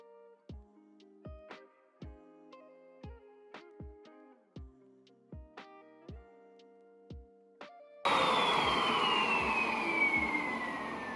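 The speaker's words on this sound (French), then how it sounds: "J'ai une manière très particulière de passer l'aspirateur." A vacuum cleaner in an apartment in Korea switches on abruptly after a run of sharp, evenly spaced clicks, then roars loud and steady with a high whining tone that slowly falls.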